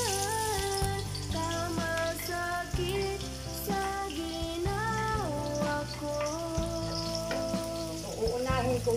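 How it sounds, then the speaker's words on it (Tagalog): Onions sauté in a hot pan as the first step of Filipino pancit bihon, giving a constant close sizzle and crackle beneath steady background music. "Lagi kong sinasabi na pag nagigisa ako, inuuna ko yung sibuyas para hindi masunog yung aking garlic."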